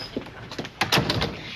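A door slides and bumps shut in a house, a short burst of scraping and knocking clunks lasting about a second, fairly close and alone.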